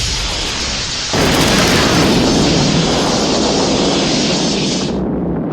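Phaser fire from a starship in a Star Trek audio drama: a loud, sustained broadband blast bursts in about a second in and roars steadily for several seconds before cutting off abruptly, with no voices over it.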